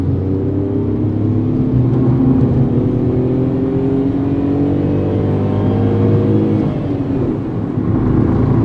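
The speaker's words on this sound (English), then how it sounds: "keep listening to the engine now. Let's focus on the engine noise inside the cabin" Inside the cabin of a 2022 Tata Tiago iCNG, the engine revs up toward its roughly 6000 RPM redline, a loud droning hum whose pitch climbs steadily, then drops back and rises again near the end.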